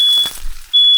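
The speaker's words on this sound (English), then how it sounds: "My smoke alarm is going off from the bacon." A smoke alarm set off by cooking bacon gives a loud, close, high-pitched steady beep that stops briefly and then sounds again.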